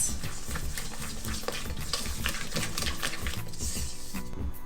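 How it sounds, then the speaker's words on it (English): Rapid, irregular clinking and scraping of a utensil mixing sugar into egg whites in a bowl, close and continuous with no talking. "I'm going to mix that through, just to make sure all the sugar's mixed into the egg white."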